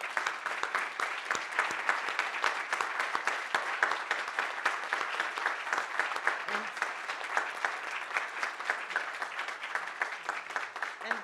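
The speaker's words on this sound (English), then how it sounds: "rounds of applause to you" Steady, dense applause from a conference audience at a Ukraine summit panel session, heard from a distance and fairly quiet, holding at an even level throughout with no talk.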